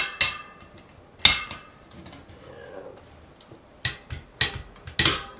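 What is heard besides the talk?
wrench tightening bicycle cassette lockring to 40 Nm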